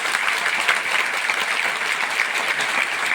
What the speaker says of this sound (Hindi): एक बार आप सबकी ऑफलाइन में जोरदार ताली लगा दीजिए